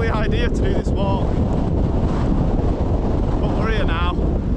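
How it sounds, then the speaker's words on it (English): Strong wind roars into the microphone on an exposed Lake District fell hike up Branstree and Selside Pike, loud and continuous, with brief voices breaking through. "It is so windy."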